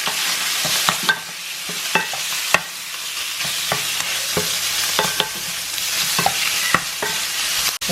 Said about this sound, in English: Prawns going into the pan.